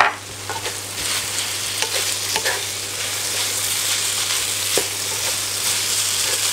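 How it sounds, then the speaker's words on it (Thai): Glass noodles, minced pork and holy basil are being stir-fried in a hot pan, giving a steady, close sizzle with occasional scraping and clacks of a spatula stirring throughout, and nobody talks. "ผัดกะเพราก็ต้องใส่ใบกะเพราเยอะๆหน่อย แล้วก็ผัดสักครู่หนึ่งให้มันสลบ"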